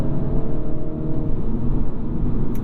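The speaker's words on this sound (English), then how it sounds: "if I drop it down into 4th gear here, into 3rd, you'll see that this turns white as I go." A 2022 Mini Cooper S Hardtop 2-door engine droning and rising slightly as the driver drops down through fourth into third gear, a steady loud cabin rumble with no talk over it.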